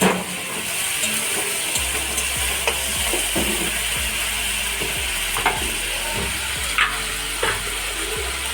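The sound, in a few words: stirring ginger-garlic paste while frying in a pan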